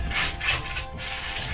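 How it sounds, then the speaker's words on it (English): A sanding pad rasps back and forth over a Christmas reindeer decoration in several rough, scratchy strokes, close and fairly loud, with no voices. "Clean off as much as you can with the sanding pad,"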